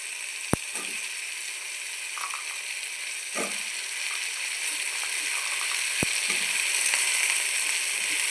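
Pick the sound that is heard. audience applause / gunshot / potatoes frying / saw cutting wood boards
potatoes frying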